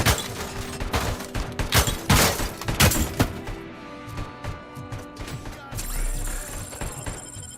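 Rapid bursts of gunfire in the video game RoboCop: Rogue City, loud dense volleys in the first few seconds that give way to sparser thuds and a high electronic whine.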